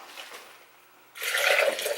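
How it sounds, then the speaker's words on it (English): Three cups of water are poured onto cashews in a container for cashew milk, a sudden splashing rush after a quieter stretch, close and fairly loud. "I'm going to put 3 cups of water."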